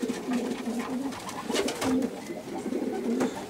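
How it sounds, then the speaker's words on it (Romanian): Racing pigeons in a Romanian loft cooing softly, several low rolling coos repeating under a steady background murmur. "Păsările arată bine, văd că zboară bine"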